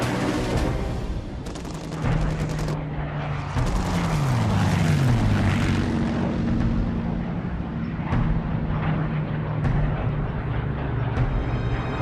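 World War II bomber formations and fighter aircraft over the English coast, a dense roaring engine drone with rising and falling pitch sweeps as planes pass, mixed with rattling bursts like gunfire, loud and continuous.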